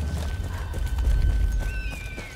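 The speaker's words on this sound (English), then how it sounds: "Ooh, there's a horse." A horse in the Battlefield 1 desert campaign gives a short whinny with hoof clip-clops over low rumbling game ambience, fairly close and brief.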